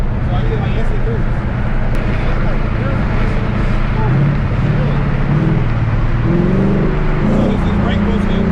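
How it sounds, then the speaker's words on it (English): A 1000HP twin turbo Mustang engine loads up while brake boosting, a loud sustained roar with rising low tones that stays steady throughout, with people talking over it. "So this is brake boosting."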